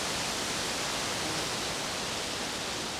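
Wind rushes through trees in a forest in northern Sweden, a steady broadband roar that fills the clip without pause and sounds fairly close.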